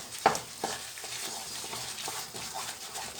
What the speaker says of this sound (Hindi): 5 मिनट के लिए भूनना इसे